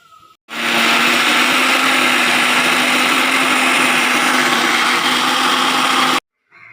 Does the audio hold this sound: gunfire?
no